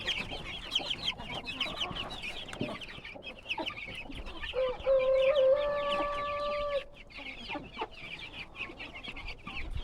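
Backyard chickens cluck continuously nearby in a mixed flock that also includes ducks, with overlapping chatter and a drawn-out crow-like call in the middle.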